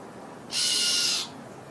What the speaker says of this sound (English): leave that bird alone